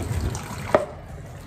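Tap water runs in a home kitchen to warm food in hot water, a brief steady splash with one sharper gush midway, close and alone with no talk.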